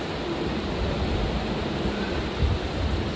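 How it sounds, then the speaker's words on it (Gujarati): Colour poured into a plastic bottle of water, a steady close rushing wash of liquid that holds evenly from start to end with no speech. "બરાબર આ રીતે કલર પાણીમાં નાખીશું"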